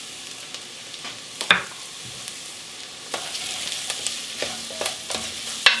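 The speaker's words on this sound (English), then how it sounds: "Next thing you want to do is you want to add some garlic." Two cloves of chopped garlic sizzle in a pot with vegetables for vegan lentil soup, giving a soft, steady hiss broken by clinks and scrapes from a stirring utensil.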